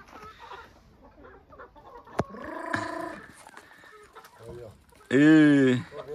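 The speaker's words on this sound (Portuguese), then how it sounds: "E olha, pra todo lado tem galinha lá, ó." Chickens on a rural farmhouse property cluck in short bursts, with one loud, drawn-out call near the end, while people talk around them.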